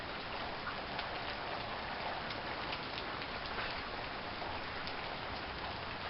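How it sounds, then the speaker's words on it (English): Steady rain falling under cloudy skies, an even continuous hiss of drops on surfaces with no talking. "Rain's kind of smoothing out."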